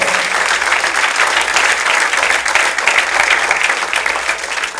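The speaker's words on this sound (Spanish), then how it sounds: "Dele fuerte el aplauso al Señor." A church congregation applauds loudly and steadily, dense clapping filling the room from start to finish without pause.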